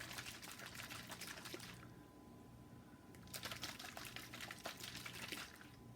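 A capped bottle holding oil, water and glitter is shaken, giving bursts of sloshing and rattling liquid noise that pause briefly in the middle before resuming, faint and close with no speech.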